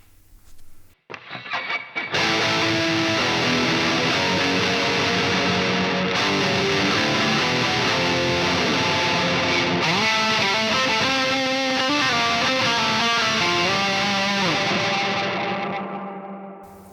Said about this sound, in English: So that's a distorted reverb